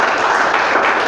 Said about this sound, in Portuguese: Pode aplaudir, glorificar.